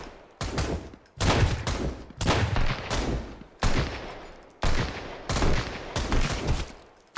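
Bursts of rapid automatic gunfire from a gun in the ocean survival game Sunkenland, loud and close, several separate volleys with brief pauses between them.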